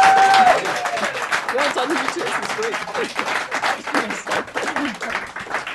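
A live referendum TV audience cheers and applauds loudly, the clapping steady and dense throughout while a voice speaks briefly over it.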